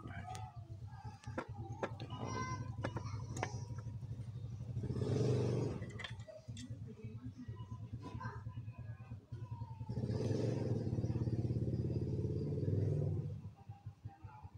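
A Yamaha Mio M3 motorcycle engine running rough, idling with a steady low throbbing and rattly clatter, rising into two louder revving surges before settling back.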